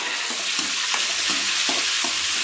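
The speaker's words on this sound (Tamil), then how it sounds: "தக்காளி பழம்லாம் வெங்காயம்லாம் போட்டு நல்லா இப்படி வதக்கிட்டு" Tomatoes and onions sauté in a pan, a loud continuous sizzle broken by regular stirring strokes roughly every half second.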